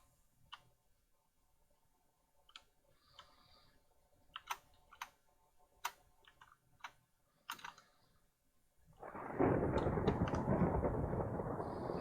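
Minecraft gameplay: scattered sharp clicks and ticks, then a loud, sustained rumbling roar of thunder with rain-like hiss takes over near the end.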